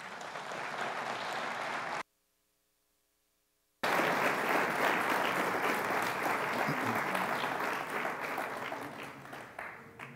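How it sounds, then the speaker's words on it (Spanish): An audience at a liturgical conference applauds to welcome a speaker, sustained loud clapping from a crowd that runs throughout, interrupted by a brief gap of silence partway. "Vamos a recibirlo con un fuerte aplauso."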